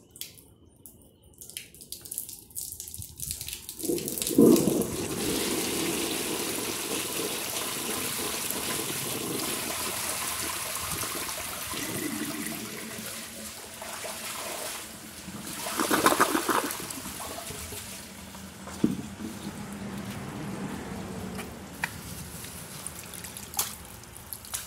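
A 1930 Devoro toilet with its tank filled to the highest level, flushing a washcloth, three grocery bags and a dish towel: a loud, sustained rushing swirl of water, with gurgling surges midway and near the end.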